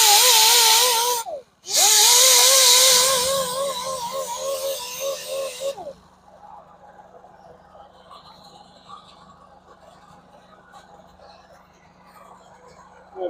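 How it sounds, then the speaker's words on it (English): A grinder bites into a curb-rashed BMW X5 wheel to re-round it, a loud, close, high whine in two bursts with a short break, then it spins down to a low hum. "So just to get the grinder in there, kind of re-round that wheel right there."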